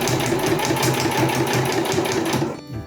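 A sewing machine stitches backpack straps in a rapid, steady mechanical rhythm, close and loud, then stops abruptly near the end.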